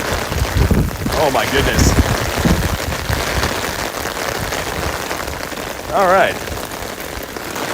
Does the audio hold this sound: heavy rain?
yes